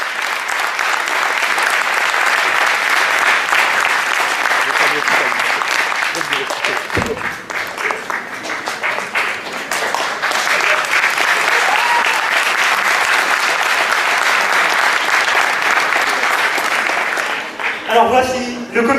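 Loud, sustained audience applause at a community football tournament ceremony in Paris, dense clapping continuing nearly nineteen seconds with a brief dip midway and a short break near the end.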